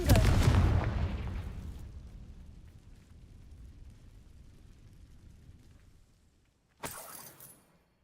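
A Confringo spell blast from the game Hogwarts Legacy booms at once as a loud explosion that rumbles and fades over several seconds, followed by a short second burst near the end.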